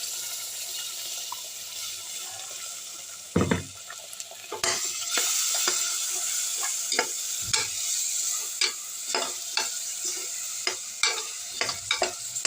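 Ground masala paste for garlic kuzhambu sizzles in a pan, with sharp spatula scrapes and clatters stirring through it, close and steady, and no voices.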